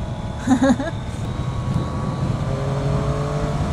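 A Triumph Daytona 675 sport motorcycle engine hums and builds steadily, its pitch climbing as it accelerates, loud and close, with a short vocal sound near the start.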